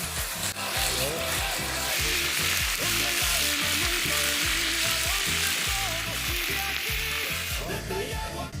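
Chorizo sizzling in a pan with onions and beans, a steady loud crackle with rhythmic scraping and stirring throughout.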